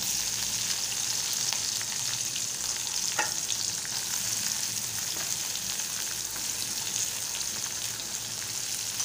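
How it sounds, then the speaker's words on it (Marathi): Onion, green chilies and garlic cloves fry in hot oil, a dense, even crackling sizzle like rain, with a faint stir or two, steady throughout. "आता चांगलंसं तेलात परतून घेणार आहे मी आणि थोडा वेळ फ्राय होऊ देणार आहे मी"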